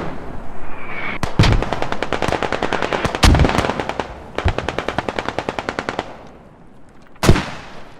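Light machine gun fire in the video game Squad: long rapid automatic bursts rattle loudly, broken by a few heavy single blasts and a brief pause before one last sharp shot.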